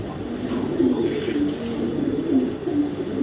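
Racing pigeons coo nearby in soft, low, repeated rolling calls, several overlapping in a steady murmur.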